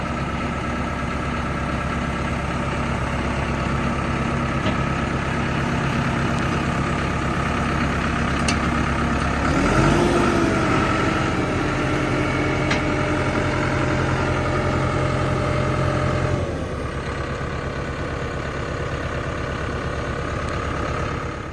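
A new Basak 2110S tractor engine idles close by in the cold for a long stretch, with a brief louder surge midway before settling back to a low drone.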